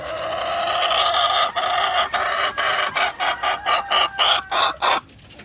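Close-up hen clucks and squawks in a series of rhythmic bursts, growing more regular and insistent toward the end, with no talking.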